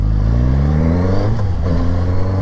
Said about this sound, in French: Hop, j'accélère et je pile.